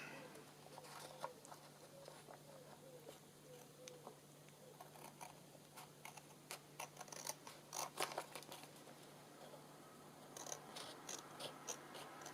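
Scissors trim craft paper for an autumn-themed project, giving a series of quiet crisp snips and rustles that cluster in bursts, close and faint, over a steady low hum.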